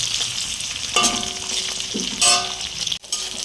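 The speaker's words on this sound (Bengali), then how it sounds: "পেঁয়াজগুলো একটু তেলে নেড়ে চেড়ে নিয়েছি" Onions sizzle in oil in a kadai, stirred with metal scrapes and clanks over a continuous frying hiss; a brief pause in the noise comes near the end.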